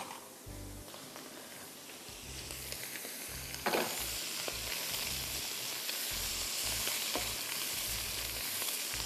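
Paneer sautéing in a pan, with cauliflower and other vegetables nearby, gives a steady, loud, continuous sizzle and frying hiss, with occasional low thuds of the pan underneath and no talking.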